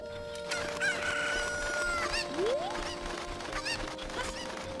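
A chicken in The Legend of Zelda: Ocarina of Time crows and clucks in several short bursts against game ambience, fairly close and clear.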